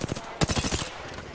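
Rapid automatic gunfire in the battle royale shooter Apex Legends, a dense burst of repeated shots at close range that runs through the whole moment with little pause.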